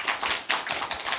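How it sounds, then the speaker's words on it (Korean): An audience at a Buddhist temple Dharma talk claps for traditional Korean musicians, giving dense, close, continuous applause that pulses in waves. "다시 한번 큰 박수 부탁드리겠습니다"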